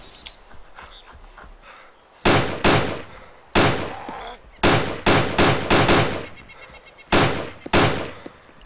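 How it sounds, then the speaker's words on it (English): Gunfire in the survival game DayZ during a firefight with a squad looting a vehicle: loud, close broadband shots in irregular bursts, single reports and quick doubles and triples, each with a short decaying tail over faint background noise. "firing, firing, firing, firing."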